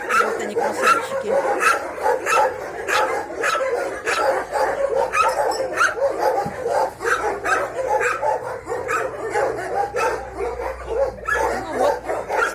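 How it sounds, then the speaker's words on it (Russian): Several dogs bark repeatedly in an outdoor enclosure, sharp overlapping yaps and barks at a busy, uneven rhythm, with a person talking over them. "Вот такие красивые собачки сидят здесь."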